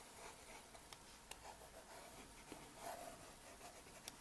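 Marker or chalk scratches across a classroom board in short, faint strokes with small taps between them, quiet and close, with no voice.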